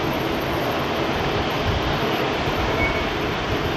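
An Airbus A350 jet rolls for takeoff at Heathrow, a loud, steady broadband engine roar that holds continuously without pause.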